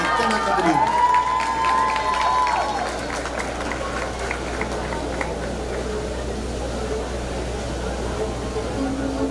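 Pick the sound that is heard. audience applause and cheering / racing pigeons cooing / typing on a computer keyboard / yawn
audience applause and cheering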